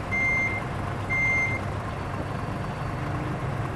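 Reversing beeps from a truck in Truck Simulator Ultimate, two clear electronic tones about a second apart over a low steady engine rumble, close and prominent.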